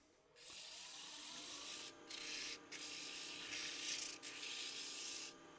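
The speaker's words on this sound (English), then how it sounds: "I'm going to touch that up with a little sandpaper" Sandpaper rubbing over a small wood-turned tree, a steady close rasping hiss broken by a few short pauses between strokes.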